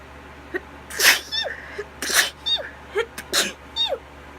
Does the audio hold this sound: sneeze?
yes